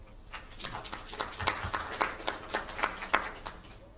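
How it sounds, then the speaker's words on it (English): A modest audience at a GIPF member education session claps to welcome presenters, with sparse, distinct hand claps close by forming an uneven, steady patter that lasts throughout. "Let's welcome them with a round of applause."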